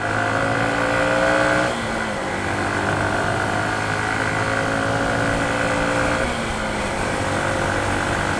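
A Honda CB125F motorcycle engine revs up and pulls away, its pitch climbing steadily, then shifts and keeps accelerating in a loud, continuous drone.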